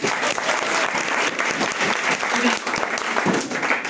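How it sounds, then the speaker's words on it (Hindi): A live audience bursts into loud, sustained clapping that fills all four seconds, dense and even with small swells, with a few voices mixed into the crowd. "तो एक जोरदार ताली बजाइए आप सबके लिए"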